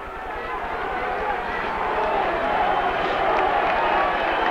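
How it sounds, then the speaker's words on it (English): Indoor soccer crowd at a professional arena match between Canton Invaders and Louisville Thunder in 1987 cheers in a steady, swelling roar during a penalty kick, with a commentator talking over it. "Crowd's up"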